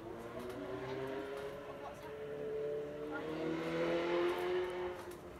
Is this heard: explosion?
no